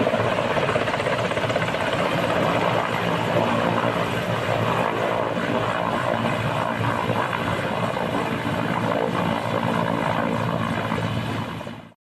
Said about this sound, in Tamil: பிரதமரின் வருகையையொட்டி முதுமலையில் ராணுவ ஹெலிகாப்டர்கள் ஒத்திகையில் ஈடுபட்டன.